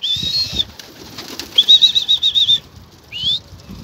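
Young pigeons flap their wings as they take off, giving three separate bursts of loud, close wingbeats with a whistling flutter, and faint background noise between them.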